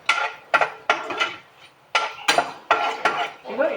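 A spoon scrapes and clinks against a metal pot while spices are stirred for mutton curry, in short repeated strokes with brief pauses between, close and fairly loud.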